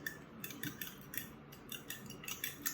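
A utensil mixes salted egg and cheese in a bowl, making quick, faint, rhythmic clinks and scrapes against the bowl with no talking.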